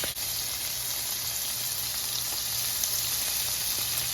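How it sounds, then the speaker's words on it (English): Strips of bacon hit a pan heated on high and sizzle steadily, a loud, close, continuous crackling hiss of frying fat that stays even throughout with no talking. "So I'm heating up this pan right now on high, and I'm just going to slide these pieces of bacon on."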